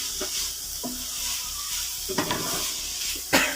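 Fried vegetables being stirred in a pan with added black pepper and salt, a steady low sizzle with a few soft scraping stirs, the loudest near the end, close and with no talking.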